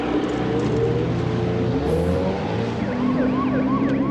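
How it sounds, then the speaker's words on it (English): A loud boat siren in the 1982 film Piranha II: The Spawning wails continuously over the rumble of a motor, its pitch sweeping up and down without pause. "he just boats around with a siren going all the time"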